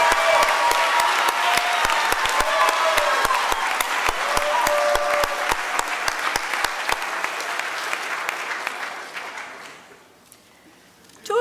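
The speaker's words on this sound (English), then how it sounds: "Amazing language learners, please stand and let us applaud you." Sustained audience applause for language learners at a school awards ceremony, a thick crowd clapping steadily for around nine seconds before tapering off into near silence.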